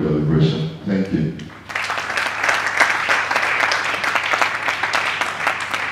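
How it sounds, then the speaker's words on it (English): Audience applause at a cybersecurity and national development congress bursts in after a brief spoken line, then continues as loud, dense clapping from a large crowd, steady to the end. "A very big round of applause again for the Head of Cybersecurity Professional Development"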